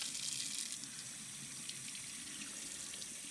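A tap runs steadily into a sink with a soft, even rush, fairly faint and uninterrupted, with no voices.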